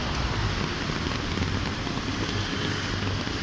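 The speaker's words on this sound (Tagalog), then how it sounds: "It's not very convenient if you're outside. And it's raining." Heavy rain falls steadily outdoors, a dense continuous hiss and patter close by, with some wind noise buffeting the microphone throughout.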